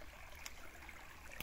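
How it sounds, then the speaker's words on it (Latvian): A small creek near a village trickles and burbles softly and steadily, a faint continuous wash of running water with a couple of brief brighter splashes. "Mazā līčupīte."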